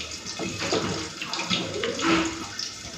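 Running tap water splashes as cut potato and eggplant are washed, a close, steady pour with uneven splashing and soft clatter.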